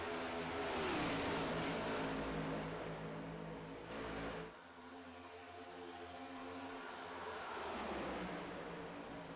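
Race cars circle the Atlanta track in a racing video game, engines droning loudly in sustained revving tones that swell and pass, dropping briefly before another steady engine whine builds.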